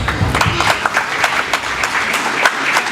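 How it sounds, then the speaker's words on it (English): Applause from the crowd at a county FFA alumni livestock show honors a showman, a steady patter of many hands clapping at close range that holds evenly for a few seconds. "Give him a round of applause."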